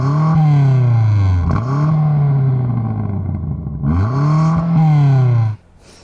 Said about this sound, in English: have a listen to this BMW M5 CS being revved while stationary